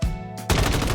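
Rapid automatic gunfire in the video game Warzone, a dense, loud burst of shots after a brief pause, close and continuous with no voices.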